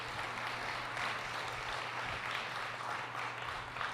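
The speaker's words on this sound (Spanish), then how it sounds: "¿Por qué no damos un fuerte aplauso a este equipo de servidores?" Faint, distant applause from a church congregation, a soft continuous wash of clapping with a low hum beneath and no speech.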